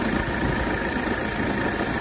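A failing air-conditioning compressor runs in the engine bay of a 1985 Mercedes 300TD, giving a steady, loud mechanical drone with rough vibration and no pauses, heard alone at close range.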